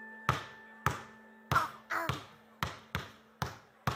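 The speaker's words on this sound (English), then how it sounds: "That's somebody bouncing a ball." A ball bouncing on a hard floor in about eight sharp thumps with irregular spacing, close and clear, with faint sustained tones from background music behind them.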